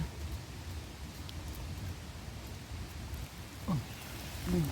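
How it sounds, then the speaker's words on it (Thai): Rain patters steadily on leaves and the ground in a forest during mushroom foraging, a soft, continuous wash of drops close around the listener, with a few faint vocal sounds near the end. "ฝนลงเม็ดจ้ะ ฝนลงเม็ดใส่หัว"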